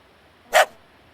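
A single sharp bark from a small dog on a homestead, one short close yip standing out against a quiet background.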